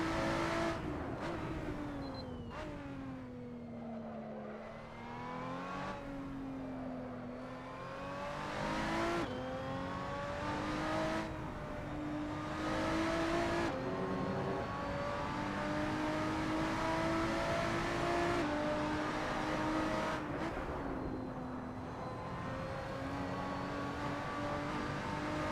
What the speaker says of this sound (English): And just listen to that engine.